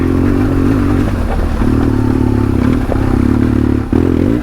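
A custom BMW 1200 GSA motorcycle rides off-road, its engine drone loud and steady, with brief dips in throttle and rattling clatter from the bike over rough ground.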